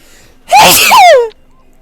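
A single loud, close sneeze bursts out sharply and ends quickly, with quiet before and after.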